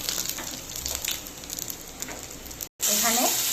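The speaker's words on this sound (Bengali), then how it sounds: "এদিকে কড়াইয়ে তেল দিয়েছি, তেলে দিব কালো জিরে ফোড়ন" Nigella seeds sizzle in hot oil in a wok for Bengali hilsa curry, a loud steady frying hiss close by, broken by a short gap before a louder burst with a voice over it.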